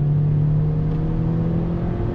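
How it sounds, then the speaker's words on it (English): A 2020 Honda Civic Coupe EX with a CVT accelerating on the road, a loud, steady engine drone and whir heard from inside the cabin without rising revs. "Let me go ahead and do a little bit of an acceleration test as we're rolling down."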